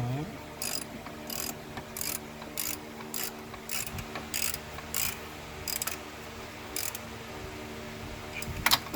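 A ratchet wrench clicks in short bursts while tightening the belt tensioner bolt on a 2000-2004 Subaru Outback, close up, with quiet pauses between strokes and no talk.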